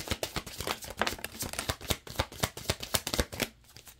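Tarot cards shuffled by hand in a fast, steady riffle of crisp papery flicks and slaps, fairly close and continuous, with a brief pause near the end and no talking.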